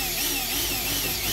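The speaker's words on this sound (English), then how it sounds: "Start drilling the hole." A drill bores a hole in a plastic rain gutter downspout, giving off a continuous, loud, high whine that stays steady through the short moment.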